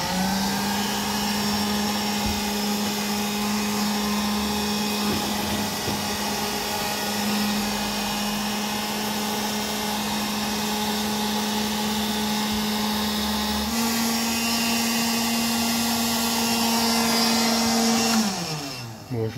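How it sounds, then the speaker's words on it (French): A vacuum cleaner sucks up insects inside a camper van, running as a loud, steady motor whine for nearly twenty seconds, its pitch stepping up briefly near the end before cutting off. "j'espère qu'il y aura assez d'aspiration pour aspirer un petit peu"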